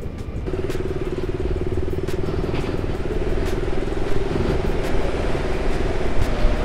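Steady engine drone of a motorcycle ride on a mountain road through the Kargil region near Hunderman, with rumbling wind and road noise throughout and occasional faint clicks, no talk.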